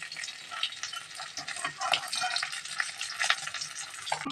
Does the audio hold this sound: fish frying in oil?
yes